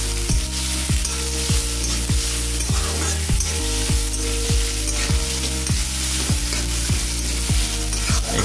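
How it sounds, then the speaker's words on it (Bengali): Cashews and ginger sizzle loudly in hot oil in a pan for a Bengali bean kofta dish, a dense continuous frying hiss with a repeating stirring scrape about once a second, close up and alone. "একটু আদা দিয়ে দিলাম। দিয়ে আমি এইগুলো একটু ভেজে নেব।"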